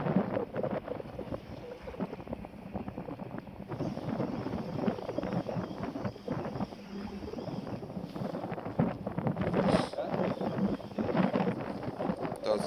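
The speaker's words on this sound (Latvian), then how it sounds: "Baigais vējš." Strong wind roars and buffets the microphone outdoors, a rough, fluctuating rush that swells and eases for several seconds with no clear talk.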